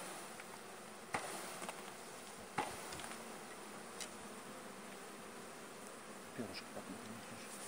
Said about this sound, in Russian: пчелки